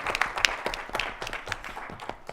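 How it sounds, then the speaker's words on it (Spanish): Audience at a talk giving a short round of clapping for a speaker, a brief patter of individual claps, moderately close and fairly sparse, with no one speaking. "Pido un fuerte aplauso para nuestra expositora, Luz Angélica Lazarte Lizárraga."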